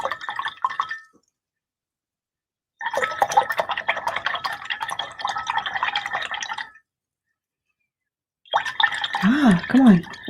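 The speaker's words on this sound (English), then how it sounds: "Rinse in the brush" A paintbrush swished and rinsed in a water cup during a painting session, with three bursts of sloshing, dripping water separated by silences, close and fairly loud.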